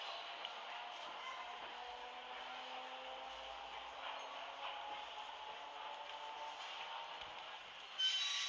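A suburban train rumbles past steadily in winter at early morning, heard from the Kyiv Skyrail, with rolling wheels and carriage noise holding at an even, moderately distant level for several seconds.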